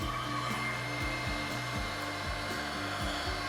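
Heat gun on low speed and medium temperature, blowing over resin art: a steady, close whirring drone with a continuous airy rush and no pauses.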